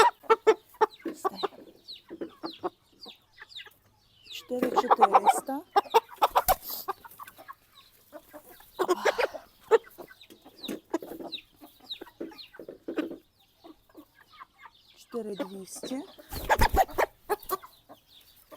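Chickens, including a large rooster, cluck and squawk close by in repeated bursts, with people talking briefly among the flapping and fussing birds in a village yard.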